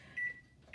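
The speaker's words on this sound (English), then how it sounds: "And then I'm going to set a timer for 18 minutes." An oven timer chirps a few short, high electronic beeps while being set for baking, quiet and close against a faint kitchen hum.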